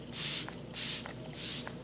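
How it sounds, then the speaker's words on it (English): Makeup setting spray is misted onto a face in three short, close hissing bursts with brief gaps between them. "So now that it's dry, I'm gonna do one more layer of setting spray."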